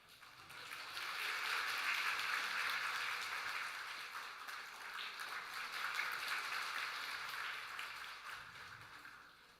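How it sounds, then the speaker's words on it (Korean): A church congregation at a Sunday service breaks into sustained applause, swelling within the first two seconds and holding steady before easing slightly, with no voices over it. "우리 선물 전달할 때 우리 박수로 축하하겠습니다."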